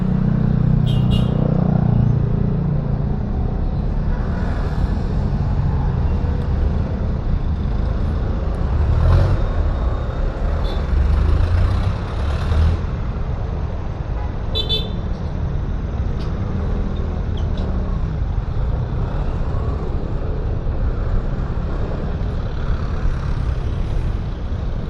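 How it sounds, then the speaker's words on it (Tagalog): Road traffic heard while riding a Fortress 160 motorcycle on EDSA in Manila, with a steady loud rumble of engines and wind, occasional higher hisses and squeals from passing vehicles, and no talk. "Traffic dito mga ka-GTV."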